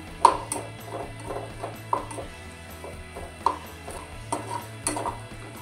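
A metal spoon stirs a corn and rice cutlet mixture in a pan over low gas, giving repeated scraping knocks and clinks in an uneven rhythm, close and fairly quiet with a faint hum beneath.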